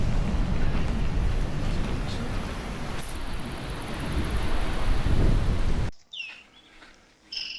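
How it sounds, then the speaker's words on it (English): At a campsite at Rotsinbos, heavy rain pours steadily with a low rumble of thunder for several seconds, then cuts off to quieter surroundings with birds chirping. "So we're having a bit of a storm here tonight."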